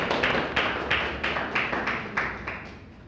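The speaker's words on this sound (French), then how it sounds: "On nous applaudit" A small group at a trading seminar gives a short round of applause, a handful of sharp, distinct hand claps in an uneven rhythm, close by, with faint murmuring in the background.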